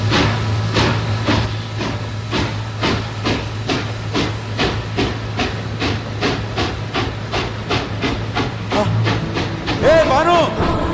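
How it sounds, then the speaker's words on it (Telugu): A moving train gives a steady rumble with regular rhythmic clacks of wheels over rail joints, close and fairly loud, and voices break in briefly near the end. "ఏ ట్రైన్ కదులుతుంది"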